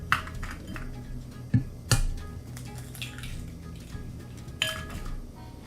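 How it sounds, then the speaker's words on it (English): Eggs cracked into a bowl for pretzel dough, a few sharp close taps and clinks against the rim spaced over several seconds with faint clatter between. "So we crack the eggs into the pot."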